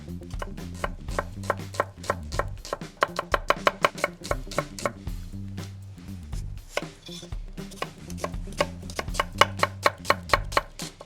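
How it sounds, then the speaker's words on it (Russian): Rapid, rhythmic knife chops on a cutting board, crisp close-up taps in quick bursts with brief pauses, dicing an onion. "И нарезаем по стандарту на маленький кубик."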